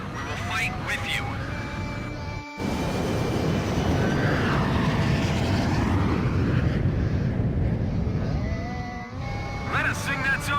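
Fighter jets roar in the Ace Combat 5 video game, a loud, continuous engine drone with swooping pitch shifts and a brief cut near the start, while a voice talks over it.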